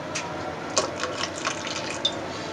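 Water poured into a pithi ladoo chutney splashes softly in a trickling stream with a few brighter drips and plops, close by and alone.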